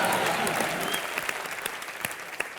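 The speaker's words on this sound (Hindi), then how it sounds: "जोरदार तालियां।" A studio audience at a televised entertainment talk show breaks into loud applause, a full burst that gradually thins and tapers with a few scattered claps near the end.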